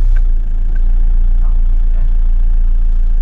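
A motorhome engine idles steadily and loudly close by with a constant low rumble and no revving.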